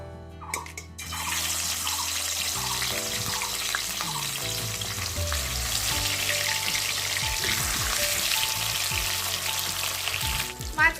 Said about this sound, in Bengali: কড়াই সর্ষের তেল দিয়ে দিয়েছি এবার একে একে মাছগুলোকে আমি ভেজে নেবো